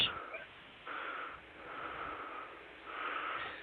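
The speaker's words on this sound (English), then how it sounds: "You fucking breathing heavy over there." Heavy, raspy breathing comes in slow, audible waves, a few drawn-out breaths with a wheezy edge, fairly faint and close, with no talking over it.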